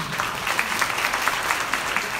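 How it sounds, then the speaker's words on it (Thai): Studio audience applauding at a Thai beauty and health innovation talk show, a steady dense patter of many hands clapping throughout at moderate loudness, with a faint voice underneath. "ปรบมือให้พวกเราเลยค่ะ"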